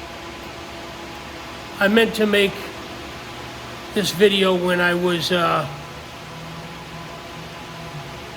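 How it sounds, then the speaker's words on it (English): Greenhouse ventilation fans run steadily as a broad, constant whooshing hiss throughout, with someone speaking briefly over the noise. "So now I apologize for the noise. The fans are running and everything."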